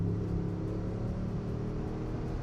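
A 2022 Ford F-150 Tremor pickup's turbocharged engine accelerates with a steady, deep, slightly diesel-like drone and rumble, heard from inside the cab, with no talking.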